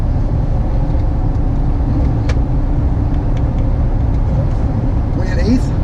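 A 2013 GMC Sierra 2500HD pickup cruises at about 60 mph and 1,600 RPM in sixth gear, its steady low engine and road rumble filling the cab beneath faint background sounds.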